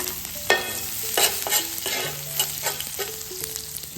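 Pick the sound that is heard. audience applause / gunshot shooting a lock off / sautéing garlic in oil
sautéing garlic in oil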